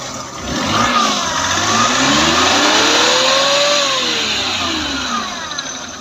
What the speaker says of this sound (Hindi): गाड़ी को आप स्टार्ट करेंगे